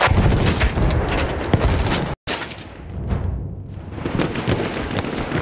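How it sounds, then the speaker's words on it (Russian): In Battlefield 1, a grenade blast and scattered gunfire make a loud, dense rumble of shots and booms, broken by a brief dropout, then continuing as heavy battlefield noise. "Граната пошла!"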